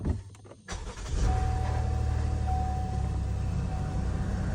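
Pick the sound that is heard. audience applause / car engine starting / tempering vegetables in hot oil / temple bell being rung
car engine starting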